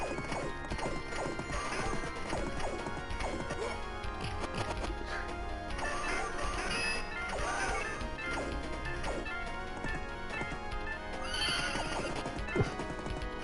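Electronic horse sound effects played from a machine's screen, galloping hoofbeats and a neigh mixed with clattering crash effects, busy and continuous with no talk.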